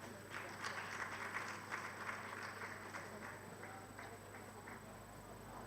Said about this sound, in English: Please, let's give Mr. Ogiri Kingsley another round of applause